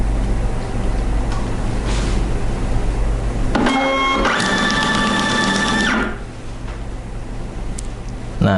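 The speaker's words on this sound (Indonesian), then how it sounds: "Kita tes print sekali lagi." A Kassen E460 label printer prints a barcode label over Ethernet: a loud mechanical whirring burst with stepped, ticking feed motor tones lasting a few seconds, set against steady room hum.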